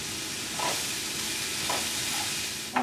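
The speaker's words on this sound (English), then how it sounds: "And then keep stirring." Spinach, onions and spinach powder sizzle in a pan while being stirred, a constant hiss broken by a few soft scraping strokes and a sharper tap at the end.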